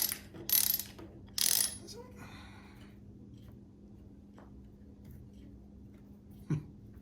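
A Milwaukee 3-in-1 lineman's high-leverage ratcheting wrench backing out a 5/16 hex-head lag bolt: a few quick bursts of bright ratchet clicking early on, then quiet handling noise and one more faint knock near the end.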